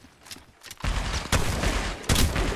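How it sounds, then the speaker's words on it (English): Gunfire from a weapon in the Apex Legends Mobile battle royale game, a burst of loud, dense rapid shots that starts after a quiet moment and keeps firing with short pauses and renewed bursts. "Lag, but I'm firing!"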